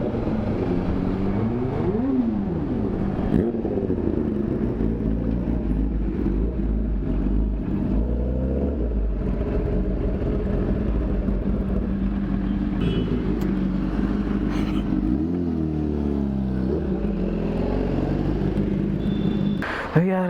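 A motorcycle with its exhaust removed rips through busy Bangalore traffic, its loud, raw engine roaring and revving up and down continuously amid surrounding vehicle rumble.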